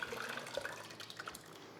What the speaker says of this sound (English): I'm going to pour this into a pot.